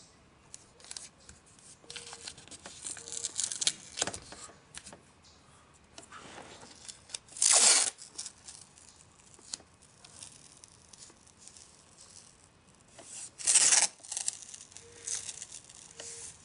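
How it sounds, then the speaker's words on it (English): Masking tape is torn off the roll in two sharp, brief rips, with quieter handling and tape-applying rustles in between, as the area on a boat hull is taped off for a KeelShield install. "we need to take our masking tape and start taping off the area"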